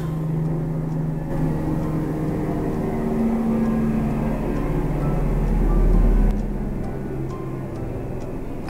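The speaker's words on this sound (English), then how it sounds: "The airplane was like literally on my roof down there." An airplane passes low overhead near a house, a loud, broad engine roar that swells toward a peak and then drops away, heard without talk.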